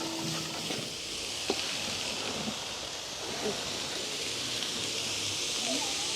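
Onions sautéing with green chillies in a pan for village-style wedding cooking give a steady, even sizzle with faint clinks and stirring scrapes, heard close and continuous throughout.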